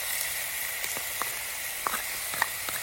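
Two large tomatoes added to onions frying in a pan, a steady bright sizzle and hiss with a few light scraping clicks, close and moderately loud with no talking.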